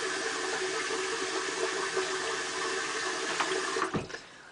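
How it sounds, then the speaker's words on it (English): Tap water runs steadily into a bathroom sink while the ends of someone's hair are wetted, a constant splashing rush that ends with a brief gurgle. "I'm just going to stick my head in the sink and wet the ends"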